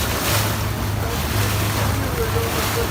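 A motorboat cruises past Karataş cape on a choppy, wavy sea off the Adana coast near shallow, rocky water, its steady engine hum blending with constant wind and splashing water throughout.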